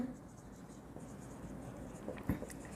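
Pen scratching faintly on paper while an accounts solution is written out, quiet and steady beneath someone speaking in Hindi.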